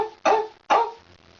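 A human voice imitates a dog barking, giving two short, loud bark-like bursts about half a second apart.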